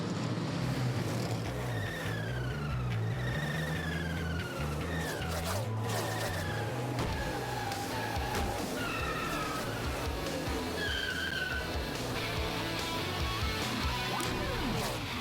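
NASCAR Sprint Cup race cars in final practice at Dover's Monster Mile, engines roaring continuously and loud with rising and falling whine as cars pass, with a commentator talking over the noise.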